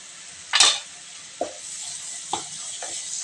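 Cumin paste is stirred into spices frying in oil over gentle heat for beef with chana dal, a soft, faint sizzle punctuated by a few distinct scrapes and knocks of the spoon against the pot.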